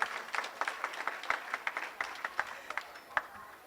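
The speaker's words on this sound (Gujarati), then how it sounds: "એક વખત જોરથી બધા તાળીઓ વગાડીને એમનું સન્માન" Audience at a Republic Day program at an ashram in Surat bursting into applause, a dense patter of many hands clapping steadily at moderate distance, with no talk over it.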